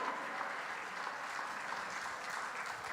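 A church congregation applauding, a steady wash of many hands clapping together, fairly faint and sustained throughout with no break.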